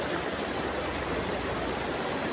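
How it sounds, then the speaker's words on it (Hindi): Waterfall pouring through a city in Italy, a steady broadband rush of falling water that holds constant and fills the whole short stretch without any voices. "अभी आपको दिखाता हूँ बहुत ही खूबसूरत झरना"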